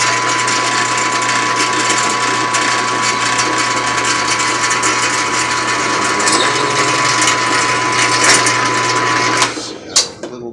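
A drill bores through square steel tube lubricated with 3-in-1 oil, giving a loud, continuous grinding whir that runs steadily for about nine seconds before cutting off, followed by a few brief clatters.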